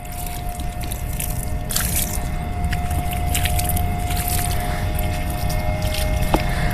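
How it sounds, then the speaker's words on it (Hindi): A little water is poured onto the soil of a potted turmeric plant that has just been planted in already damp soil, making a steady close-up soaking, squishing trickle with a few drips. "लेकिन लगाने के बाद हल्का सा पानी हमें इसमें डाल देना है।"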